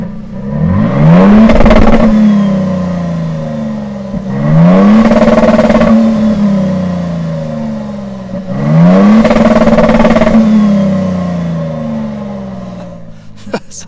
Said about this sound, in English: just a real quick sound clip of the TRD exhaust